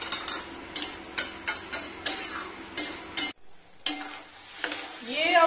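Cashew paste is stirred and fried in a pan, with close, rhythmic scraping strokes of a spoon over a soft sizzle, a brief pause, then louder frying.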